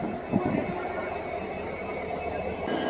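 The Hampi Express from Mysore to Hubli rolls along with a steady rumble of rail noise heard from inside the train, moderately loud and continuous.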